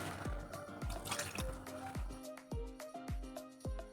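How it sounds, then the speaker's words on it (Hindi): Water drips and splashes in a quick, steady series of small plops as it is added to a semolina and yogurt batter for rava uttapam, close and fairly quiet, with no voices. "थोड़ा सा और पानी डालेंगे।"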